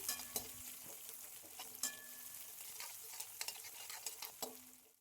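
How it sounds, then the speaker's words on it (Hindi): Chopped chili, garlic and onion frying in a pan while being stirred, a close continuous sizzle broken by repeated scraping strokes and light clinks of the spoon at irregular intervals, with no talking. "अब इसको भी हम अच्छे से भून लेंगे चलाकर।"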